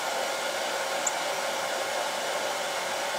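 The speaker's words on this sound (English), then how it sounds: "I've got my noisy dryer out just because it dries fast" A hair dryer blowing steadily at close range, a loud constant whooshing hum with no pauses and no voices.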